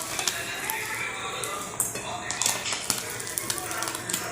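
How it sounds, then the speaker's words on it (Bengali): Tengra fish seasoned with turmeric, chili and salt fry in a pan with a moderate sizzle, broken by scattered clicks and scrapes of stirring, heard up close. "আমি হলুদ মরিচ লবণ দিয়ে মাছগুলো ভালো করে ভেজে নিয়েছি।"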